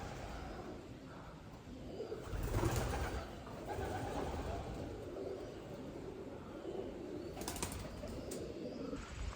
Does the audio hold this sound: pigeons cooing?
yes